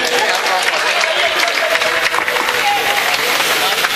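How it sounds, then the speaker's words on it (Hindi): Audience at an outdoor mushaira poetry gathering in Pipalsana, Moradabad, breaking into sustained, dense applause and crowd noise that holds steady from start to finish. "आप लोग एक बार अपने लिए तालियां बजाएं।"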